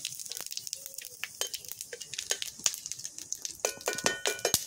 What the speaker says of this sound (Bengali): ফোড়নটা ভাজা ভাজা হয়ে গেছে